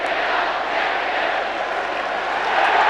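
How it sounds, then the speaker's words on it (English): A parochial Victorian football crowd at a 1989 State of Origin match against South Australia roars and chants as one dense, loud, sustained mass of voices, steady and swelling slightly toward the end. "You can hear them chant, "We are the champions.""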